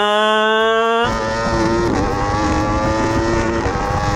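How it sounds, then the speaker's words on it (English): A racing motorbike engine drones at a steady high pitch, then shifts into a loud, rough, sustained roar as it accelerates along a straight toward the rev limiter, close and without talk. "So on the straight, you accelerate almost until the limiter."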